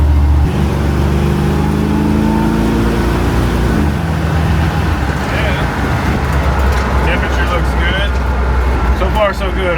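Chevrolet C10 square body pickup engine running with a steady low drone that shifts pitch, heard from inside among road noise while a person talks.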